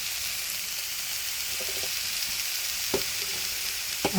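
Mixed vegetables sautéing in a pan give a steady, soft sizzle with a few sharp clinks of a utensil stirring near the end; no one speaks.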